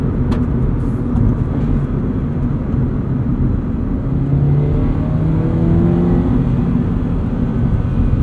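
A 2022 Subaru BRZ with a 4.3 rear differential accelerates hard in second gear, a loud, steady engine drone rising in pitch over several seconds close to the microphone, with no talk.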